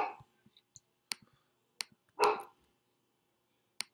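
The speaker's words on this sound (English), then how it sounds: "The mailman came and my dog started barking like crazy." A dog barks in short, sharp bursts, one louder, longer bark in the middle, with quiet clicks and gaps between, heard indoors from a moderate distance.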